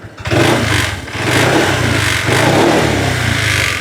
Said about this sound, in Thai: ลองเล่นคันเร่งกันสักนิดนึง